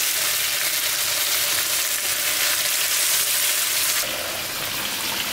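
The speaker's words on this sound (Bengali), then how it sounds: "লবণ, হলুদ আস্তে আস্তে সুন্দর করে ভাজি করে নেব।" Pieces of pumpkin seasoned with salt and turmeric fry in a pan, giving a steady, close, loud sizzle of hot oil that holds for several seconds without any talking.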